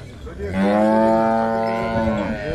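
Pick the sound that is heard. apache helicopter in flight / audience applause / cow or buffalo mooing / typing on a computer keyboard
cow or buffalo mooing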